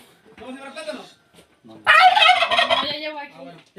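A turkey of the kind raised in the Huasteca region gobbles close by in two bursts, a shorter call followed after a pause by a louder, longer rattling gobble.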